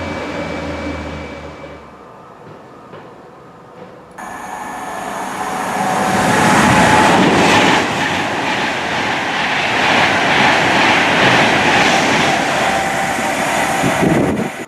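A train runs through Winsford Station on the North Staffordshire Railway, rising from a quiet low rumble into a loud, sustained rushing roar with faint rail clatter, close by and steady for most of the stretch.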